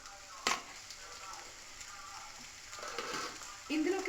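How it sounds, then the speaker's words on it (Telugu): Okra with roasted peanuts fries in a pan, a faint low sizzle broken by a few brief stirring scrapes and a clatter near the start, quiet overall. "ఇందులోకి మనం ఈ బెండకాయల్ని వేసేసి దీన్ని కూడా ఒక 10 నిమిషాల వరకు మగ్గనిద్దాం"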